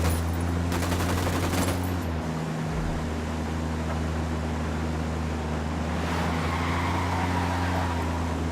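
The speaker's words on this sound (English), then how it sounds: "Opening fire on these fuckers." Rapid automatic gunfire in Ghost Recon Wildlands, a dense crackling burst early on layered over a constant vehicle engine drone, followed by scattered distant shots.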